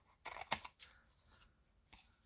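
Scissors trim the edge of a washi paper doll with a few quick, close, quiet snips clustered together, followed by one more cut after a short pause.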